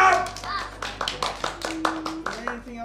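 A short run of about seven or eight separate claps at a camp magic trick, sharp and fairly close, with a voice and other chatter running underneath.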